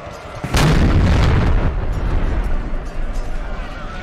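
Canister shot artillery fires in a Napoleon Total War battle: a sharp loud boom followed by a long rumbling roll of cannon and musket fire that stays dense and steady, with a voice talking over it.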